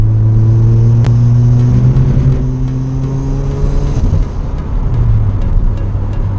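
A Mazda RX-7 FD with a four-rotor engine on a race track, loud and close, its steady drone rising and shifting pitch as it revs, with no voices.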